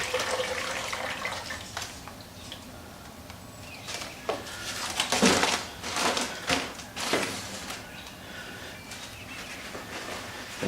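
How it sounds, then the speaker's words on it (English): Brisket juice is poured into a grease separator: liquid trickles and splashes in uneven bursts, close by, swelling into stronger pours midway before it tapers off, with no talking. "I always keep this juice and I pour it in there and I'll separate the grease from the flavor basically."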